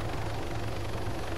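Helicopter rotor and turbine drone from the Pawnee in the video game Arma 3, a dense, steady whir with a faint rhythmic chop that fills a brief stretch with no talk.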